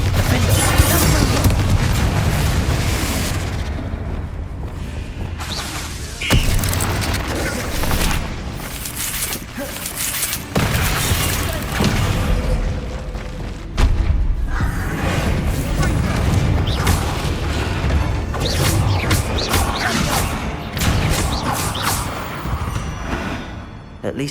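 Spell blasts and explosions in the video game Hogwarts Legacy, a dense run of repeated booms and crashes over about 24 seconds, with a voice talking throughout.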